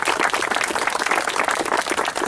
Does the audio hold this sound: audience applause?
yes